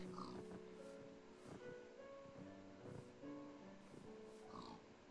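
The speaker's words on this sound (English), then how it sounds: "Well, here's one of the pigs." Pigs in the video game Minecraft grunt and oink in a few faint, short bursts, spread across a soft background of game ambience with no talk.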